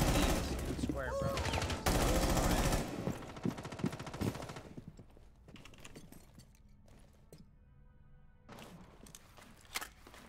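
Automatic gunfire from Rainbow Six Siege on Xbox One: dense, loud bursts of rapid shots at first, thinning into scattered single shots and footsteps, then a final short burst.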